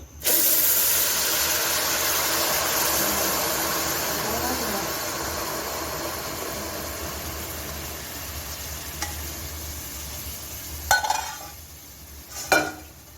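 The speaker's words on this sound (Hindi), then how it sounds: "जैसे ही हमने चाशनी जो थी वो घी में डाली थी तो वो देखिए एकदम से जो थी वो उबल गई थी" Loud, steady sizzling and bubbling hiss of sugar syrup poured into hot ghee, gradually easing, with a couple of sharp clinks near the end.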